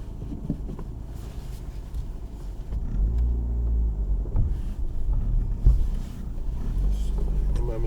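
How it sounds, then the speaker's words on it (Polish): A 2003 three-door Fiat Stilo with a 1.6 engine on a test drive, heard from inside the cabin as a low, steady engine and road rumble with slight swells, while someone talks over it. "spróbujemy sobie zrobić jeszcze jakąś jazdę próbną"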